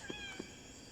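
A video game cat meows faintly in a raccoon-themed game, two soft, quick calls close together over a constant background hum, with no talking.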